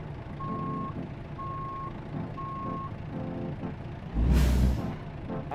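A 2014 Volvo VNL truck in American Truck Simulator backs up with three evenly spaced reversing beeps over a low engine idle, then a loud burst of air-brake hiss.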